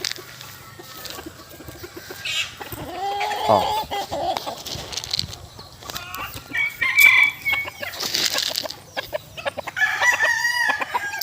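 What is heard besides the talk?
chickens clucking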